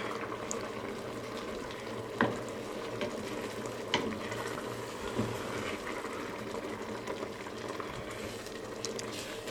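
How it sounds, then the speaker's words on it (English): A spoon stirs ukwa, African breadfruit with fish, in a cooking pot, scraping faintly over a low simmering bubble with a few soft knocks against the pot, quiet and close, no talking. "I'm gonna stir it up to the bottom of the pot"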